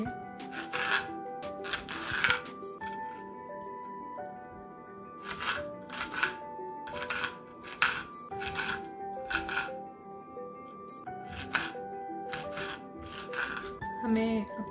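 A knife chops deseeded jalapeño peppers finely on a cutting board, giving irregular sharp taps in quick bursts with short pauses between them, over faint steady background tones.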